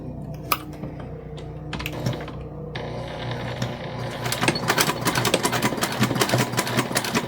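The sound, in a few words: sewing machine stitching a bag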